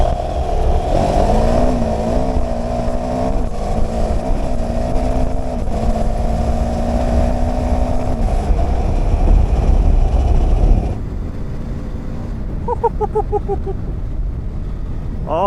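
A BMW F 450 GS motorcycle rides over gravel and forest tracks in Enduro Pro mode. A loud, close engine drone rises and shifts under heavy wind buffeting, then drops to quieter rumbling and rattling near the end.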